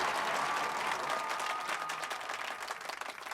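A crowd claps together in a steady, dense wash of applause that gradually thins and grows more scattered toward the end, with no speech over it.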